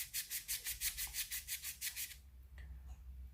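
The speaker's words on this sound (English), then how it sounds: "just gonna lightly rub it" An air rifle trigger hammer from an Artemis CP2 is lightly rubbed smooth with an abrasive, about a dozen quick, even back-and-forth scratchy strokes close up, then stopping with a small tap.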